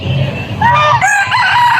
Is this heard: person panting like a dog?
no